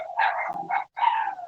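A dog bays and barks loudly and close, drawn-out howling yelps in three bursts with a short gap, and no one talks over them.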